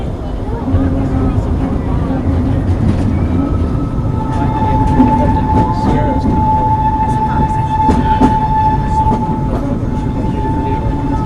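A Disneyland Railroad train rumbles steadily along the tracks with a constant low roar and a sustained high squeal, while a voice announces the next stop over it.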